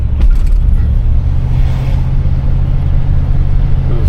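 A 1974 Cadillac Deville driving on the road under light throttle, its engine a steady loud low rumble with road noise, continuous and close, no voices.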